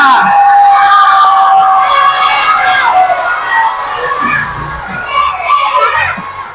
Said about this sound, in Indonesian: Oke, tepuk tangan buat Aditya.